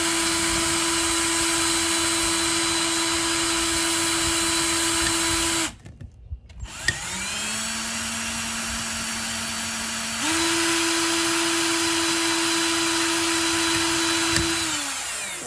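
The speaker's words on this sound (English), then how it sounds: "then you just keep drilling until you get until you are completely through and your hole is made" A power drill bores a hole through a plastic snow globe tumbler with a loud, steady whine. It cuts out briefly, restarts at a lower pitch, then rises back to its higher note before winding down near the end.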